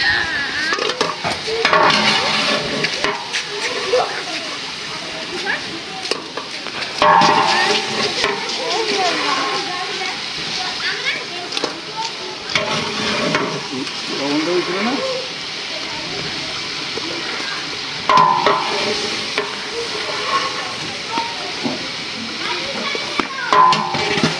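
Chicken sizzles and crackles in a hot pan while a utensil repeatedly scrapes and stirs, with a person talking intermittently over the cooking.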